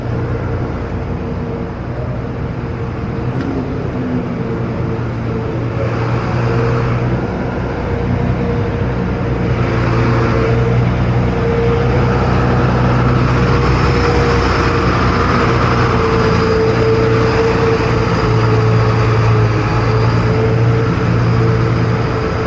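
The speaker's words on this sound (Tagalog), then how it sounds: "Ayan pa, may dumaan pang truck." A truck drives through deep flood water on a street in Cainta, Rizal, its heavy engine droning low and steady, growing louder and closer partway through with water churning beneath it.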